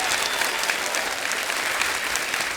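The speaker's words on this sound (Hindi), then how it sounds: "जोरदार तालियां हो जाए हमारे मेहमानों के लिए" Studio audience on Kapil's comedy talk show applauding its guests, a dense, continuous burst of clapping from a large crowd, loud and even throughout with no speech over it.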